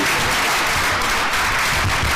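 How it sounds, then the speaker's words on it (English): A crowd claps steadily and loudly throughout, a dense, continuous round of applause with no voices standing out. "Let's have another big round of applause"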